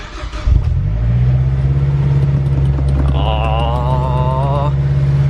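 A Mazdaspeed6 engine and exhaust idle with a deep, steady rumble up close, after a short rev as it settles, with a brief whistling tone partway through.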